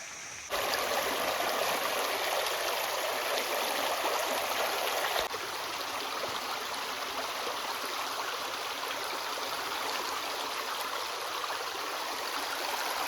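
Clear river water flows and rushes steadily past a tree trunk beside Roaring Run Trail in Apollo, Pennsylvania, a close, loud, continuous broadband wash that holds unbroken throughout.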